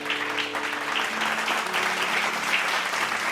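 A church congregation claps together in a steady, dense burst of applause during a late-night Bible study service, loud and continuous throughout with no voices standing out.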